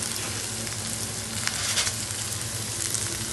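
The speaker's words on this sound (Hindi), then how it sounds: "सबसे पहले हम इसमें डालेंगे अदरक लहसुन का पेस्ट। तो थोड़ा सा सौटे कर लेते हैं।" Ginger garlic paste sautéing in hot oil in a pan gives a steady, close sizzle and crackle that continues evenly throughout, with no talking.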